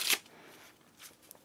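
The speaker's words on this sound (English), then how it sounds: "once you've done the whole riffle shuffle thing like that" Playing cards are riffle shuffled by hand, a sharp close burst of fluttering card edges, then quieter rustling and a few soft taps.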